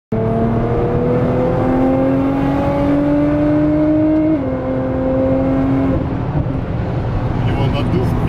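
Cabin engine noise in a Nissan GT-R Stage 2 with a 3.8-litre twin-turbo engine, a loud sustained drone that climbs in pitch through the gears with a shift midway, while people talk over it.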